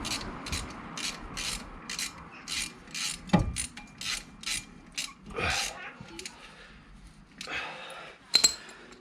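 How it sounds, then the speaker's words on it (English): A screw is tightened on the brake disc of a 2009 Mercedes C200, close by, with a quick run of rhythmic ratchet clicks in short bursts, followed by a few scrapes and metallic clinks. "do up the screw"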